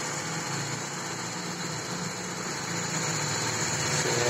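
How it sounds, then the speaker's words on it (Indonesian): A 1995 Toyota Corolla AE101 engine idles close by with a steady, even hum that stays constant throughout. "Nah, ini kondisi mesinnya gini ya."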